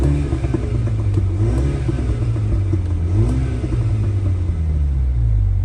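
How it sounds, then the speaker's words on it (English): Exhaust of a 2018 MINI Countryman John Cooper Works ALL4 in sport mode with the exhaust valve open, a steady, close engine rumble and rev alone, with faint crackles and pops on the overrun. "Just adds those little crackles and pops on the overrun, which is very nice."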